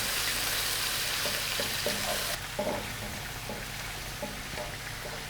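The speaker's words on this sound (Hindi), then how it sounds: "पेस्ट को भी हमने इसमें हल्का सा सोते कर लेना है।" Ginger-garlic paste sautéing in a pan for a Pakistani murgh musalam, a steady close sizzle that softens partway through, with faint stirring scrapes and no voices.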